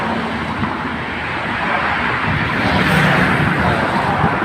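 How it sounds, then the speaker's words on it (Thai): Constant road traffic roars nearby, a broad rumbling wash of passing cars that swells slightly toward the end, with no clear voices. "เสียงรถอาจจะดังหน่อยนะครับ"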